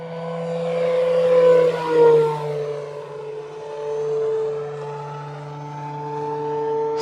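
An E-flite Carbon-Z T-28 2.0 m RC airplane with a three-blade prop drones steadily at full throttle, one sustained propeller whine that swells as it passes close and then eases off while it circles.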